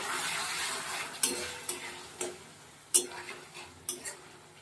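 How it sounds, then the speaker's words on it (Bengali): Potatoes are stirred in a pan while cooking aloo kosha, soft sizzling under a series of sharp spoon scrapes and taps against the pan. "মাঝে একবার ঢাকনাটা খুলে নেবো দেখো একটু নাড়িয়ে নেব ভালো করে"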